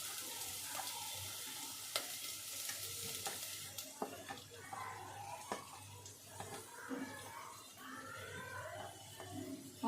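Thinly sliced medium onion pieces frying in a pan for a home-style chicken curry, a steady soft sizzle with occasional scraping stir sounds and faint clinks, moderately close and continuous throughout.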